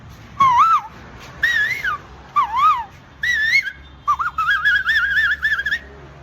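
A person whistles an imitation of a koel, the Asian cuckoo, in a run of rising, warbling calls: several separate phrases, then a quicker repeated series, loud and close against faint background noise.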